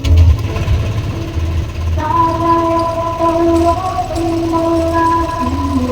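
A motorcycle engine started off a DIY power bank jump starter, cranking briefly and then catching into a loud, close, steady idle with a humming tonal drone over a rough mechanical rumble.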